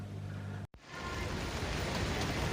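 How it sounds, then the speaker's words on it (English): Heavy rain pours down in town, a dense, steady hiss of drops on hard surfaces broken by one brief dropout before resuming at full strength. "Because it's raining."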